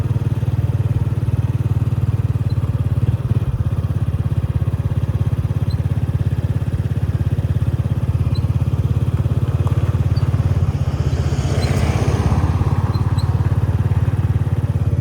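Motorcycle being ridden, its engine a loud, steady close drone throughout with a rushing wind-like swell near the end.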